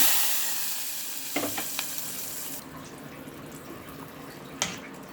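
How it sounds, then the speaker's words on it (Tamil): Hot tempering is poured into a pot of sambar, setting off a loud, hissing sizzle that gradually fades and settles into a softer bubbling, with a couple of faint clinks. "இப்போ நாம் சாம்பாரில் தாளிப்பு ஊற்றிக்கலாம்."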